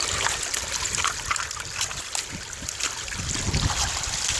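Creek water trickles and splashes over stones close by, a continuous bubbling flow with uneven surges, no voices.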